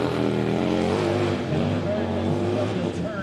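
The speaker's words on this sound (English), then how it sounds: "this motor is very deep in sound and very unique" A big Harley-Davidson motorcycle engine with a long swing arm rumbles steadily at a hill climb event, a deep, loud, continuous drone with a people talking over it.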